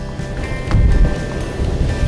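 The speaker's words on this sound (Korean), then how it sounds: "아, 칼바람이야." Strong, biting cold wind buffets the summit of Hambaeksan, the highest peak in Taebaeksan National Park, as a steady, loud, broadband roar that surges and gusts throughout.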